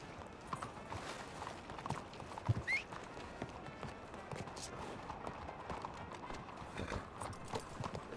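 Horse hooves clip-clopping in the video game Red Dead Redemption 2, a quiet, steady patter of hoofbeats with faint creaks under a low background, with no clear speech.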